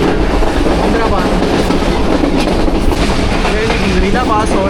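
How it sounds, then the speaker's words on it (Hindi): A passenger train on a Rawalpindi to Lahore journey passes close by, with a loud continuous roar and a rhythmic clickety-clack of wheels on rail joints, plus faint squeals throughout. "पास हो रही है ट्रेन हमारी"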